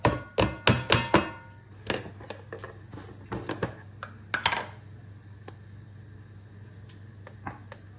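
Mashed potatoes go back into a pan with butter: a cluster of sharp clinks and thuds from a utensil knocking against the pan, quick at first, then sparser taps trailing off into quiet kitchen hum.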